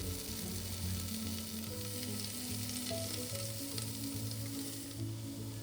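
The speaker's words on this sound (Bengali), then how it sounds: "এবার কেটে রাখা সবজিগুলো দিয়ে দিই কারণ সবজিগুলোও তো এবার ভেজে নিতে হবে নুন আর হলুদ দিয়ে" Chopped vegetables fry with salt and turmeric in a hot pan, giving a steady, even sizzle with light stirring throughout and no one talking.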